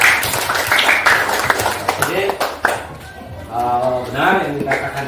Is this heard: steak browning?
no